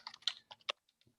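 Quick bursts of keys clatter on a computer keyboard, a handful of crisp close taps in an uneven run that slows and fades into a few soft final presses.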